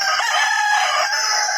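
A chicken rooster crows loudly and close by, one sustained raspy call filling the whole moment without pause.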